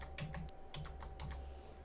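Fingers type on a computer keyboard while a domain name is entered, producing quiet, close, irregular key clicks in short bursts over a faint steady hum.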